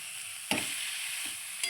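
Soft scraping and stirring of bota greens in a frying pan over a steady low sizzle, with a couple of brief utensil knocks.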